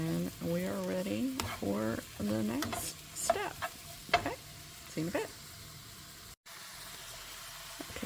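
Baby bella mushrooms cook in a pan with a bright sizzle and scraping stirs that come in short bursts, following a few seconds of a voice at the start.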